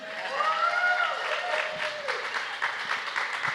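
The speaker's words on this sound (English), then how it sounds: "Y'all can clap now." An audience breaks into applause at a church event, a steady wash of clapping with a few cheers and a raised voice rising over it early on, fairly distant and sustained.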